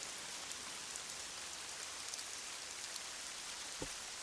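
Steady rain falls in a continuous even hiss, with a brief low thump near the end and no voices.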